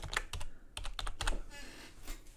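Typing on a computer keyboard, a quick burst of close, crisp key clicks in uneven clusters, then a quieter pause with faint room noise.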